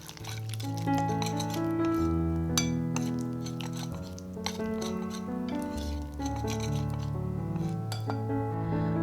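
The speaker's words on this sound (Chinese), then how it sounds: "然后搅拌均匀" Red velvet chiffon cake batter is stirred in a bowl. Soft, repeated clinks of a utensil against the bowl sit under steady background music.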